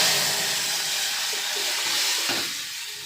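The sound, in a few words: hot cumin and mustard seed tempering sizzling into dal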